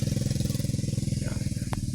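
A motorcycle engine putters close by with a steady rapid pulsing, loud throughout the short stretch as it passes along a rural road among coconut trees.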